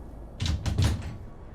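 A locked wooden house door in Skyrim is tried: a few quick rattling knocks and thumps in succession, close and moderately loud, with no voices.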